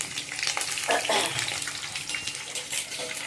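Garlic, dried red chilli, green chillies and mustard seeds fry in a pan with a steady crackling sizzle, loud and close, with small bursts of spatter.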